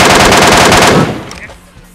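Rapid automatic gunfire in PUBG Mobile, a loud continuous burst of shots lasting about a second before cutting off into quieter trailing game sounds.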